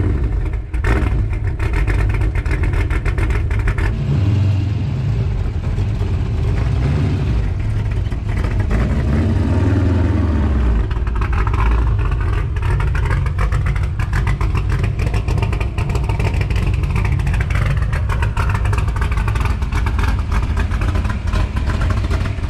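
A Ford Fox Body with a swapped 395 cubic inch Windsor V8 and nitrous runs loud and close, its deep engine rumble rising and falling through several throttle swells with no talking.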